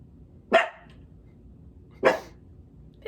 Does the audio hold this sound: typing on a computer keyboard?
no